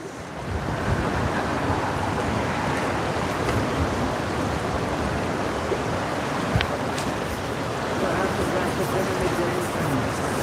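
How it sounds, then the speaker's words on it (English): Wind blows strongly beside a river, a constant loud rushing roar of gusts buffeting the microphone, with brief knocks and faint sounds underneath. "That wind is tenacious."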